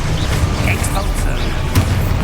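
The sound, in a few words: Exposo explosion spell in Hogwarts Legacy video game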